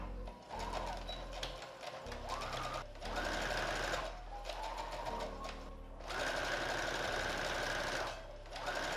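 A sewing machine stitches a tea towel seam in steady runs of whirring, pausing briefly between bursts, close and fairly loud with no talking.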